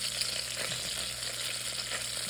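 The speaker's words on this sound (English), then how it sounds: "Bacon is cooking" Bacon strips fry in a pan, one side already crispy, giving a constant crackling sizzle with small pops scattered throughout, steady and close, with no voices.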